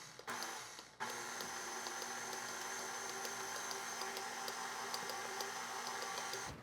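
A stand mixer churns soft peanut butter cookie dough, a steady whirring motor hum with a brief dip near the start, then an even, continuous drone close by.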